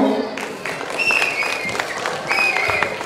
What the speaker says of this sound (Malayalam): ഒരു കൈയടിക്കാമോ?